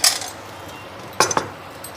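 A metal ladle clinks sharply against a pan as semolina batter is poured, giving a bright clatter at the start and then two quick close clinks, with no talking.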